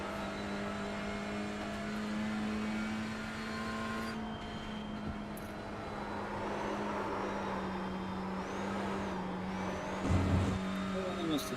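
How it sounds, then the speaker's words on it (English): A Honda Civic Type R race car in the iRacing sim at Thruxton drones steadily at mid distance, engine note holding and shifting slightly as the tires hiss, with a voice talking over it. "I like the sound of this car. It's a Honda Civic Type R."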